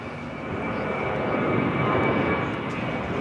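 Airliner engines roar steadily during a takeoff roll on runway 25 left at Los Angeles International Airport, a loud, broad, continuous rumble with no voices over it.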